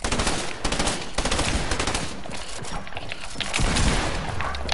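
Shotgun and other gunfire in a trios video game match: dense, loud volleys of shots rattle continuously, close and overlapping, with heavier blasts near the end.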